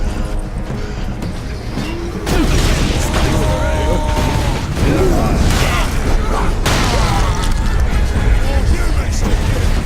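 Gunfire and booming explosions from the video game Warhammer 40k Space Marine, loud, dense and continuous, with heavy low rumble and overlapping blasts throughout.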